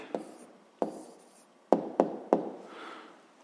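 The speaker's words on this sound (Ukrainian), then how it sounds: "Тобто записуємо відповідь." Hand writing on paper, answer being jotted down: five sharp taps and scratches spaced irregularly over a few seconds, close and fairly quiet, with no voices.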